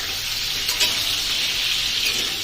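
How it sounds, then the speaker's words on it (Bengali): Slices of pointed gourd (potol) sizzle steadily in a hot pan, a continuous bright frying hiss with faint stirring, close and alone without any voices. "পটল ভাজতে একটু সময় লাগে"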